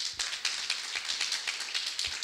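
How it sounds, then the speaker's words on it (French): A church congregation claps hands in a fairly regular rhythm, the individual claps distinct and moderately close, continuing through without speech. "Une main d'acclamation pour les frères et sœurs."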